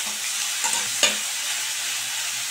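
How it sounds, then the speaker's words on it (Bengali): Cauliflower frying in a pan, a steady close sizzle with a couple of sharp spatula scrapes and taps from stirring, no voices. "আর একটু আমি ভেজে নিচ্ছি।"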